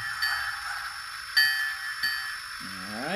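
A model steam train's bell gives a few bright, separate dings, each ringing out briefly, followed near the end by a softer rising tone.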